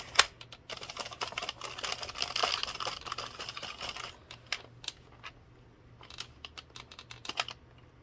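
A 22-pin knitting machine carriage swept through with no yarn in the feeder gives dense rapid clicking and clattering, with a busy burst early on and then sparser ticks and short rattles, close and fairly quiet, with no voices.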